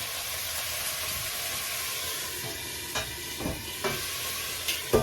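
Squid noodles (pansit pusit) fry in a pan with a steady, close sizzle and hiss, while a utensil stirs and scrapes a few times near the end; no one speaks.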